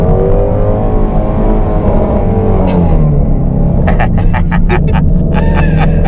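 A Shelby GT350 launches and pulls hard, its engine rumbling loudly up through the revs in a rising roar heard from inside the car, with a shift and renewed climb near the end.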